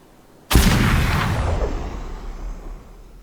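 A single loud gunshot or blast in the video game Gunsmith Simulator, fired from a raised position, with a sharp onset and a long rumbling tail that fades over about three seconds.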